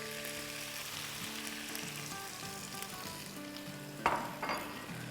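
Cornstarch slurry being stirred into chicken Manchurian with bread pakoras in a hot pan, a continuous close sizzle with soft scraping and two sharper splashy bursts toward the end, no talking.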